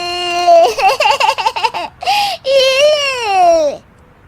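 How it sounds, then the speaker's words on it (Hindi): A baby wails in a household scene: a loud, close cry that breaks into rapid wavering sobs, pauses briefly, then rises again into a long drawn-out wail before cutting off. "ये बच्चे के रोने की आवाज कहाँ से आ रही है?"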